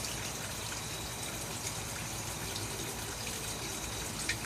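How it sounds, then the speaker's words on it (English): A steady hiss of water spray misting a rare plant's drying aerial root during propagation, continuous and close with no voices. "I keep spraying the aerial root because it's drying out."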